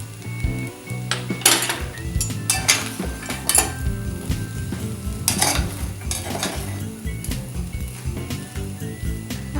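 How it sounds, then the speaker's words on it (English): Poha pulao with raisins and saffron stirred in a pan over a flame, a spoon scraping and clinking against the metal amid a soft sizzle, repeated strokes up close with no voices. "Just give it a stir."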